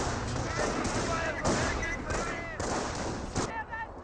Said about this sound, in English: the Jeep is receiving quite a bit of fire from the Panzer Grenadiers